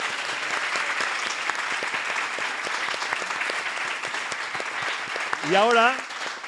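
Audience applause for a winning photo on a Spanish podcast show, steady clapping throughout, with a voice rising over it near the end.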